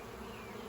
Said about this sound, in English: there's a lot of bees flying